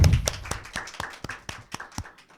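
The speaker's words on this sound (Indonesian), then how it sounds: "tepuk tangan untuk Pak Endro" A few people clapping for a guest in a podcast studio, sparse individual claps in a loose rhythm, close and distinct, fading after about two seconds with no talk over them.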